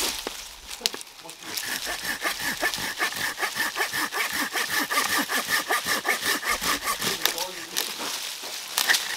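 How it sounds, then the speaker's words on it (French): A hand saw cuts steadily through wood with fast, even back-and-forth strokes, rasping loudly and close up for several seconds. "pour débiter des morceaux comme ça très rapidement, voilà, la scie est hyper bien adaptée"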